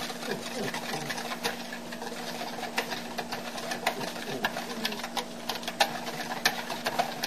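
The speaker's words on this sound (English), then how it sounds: "add 1/2 cup of flour to that. We're going to whisk it together." Flour is whisked into milk in a bowl for broccoli cheese soup, producing a quick, continuous run of light clicking taps over a low steady hum.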